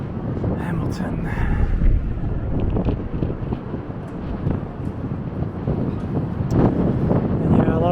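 Wind buffeting the microphone in rough, low gusts, steady and close throughout the clip.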